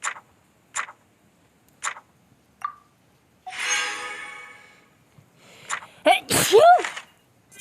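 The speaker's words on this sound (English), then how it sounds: "Sorry for the sneeze so bad" Several short sharp sneezes spaced apart, followed by a noisy breathy exhale and a sniffly, squeaky vocal sound, close and fairly loud.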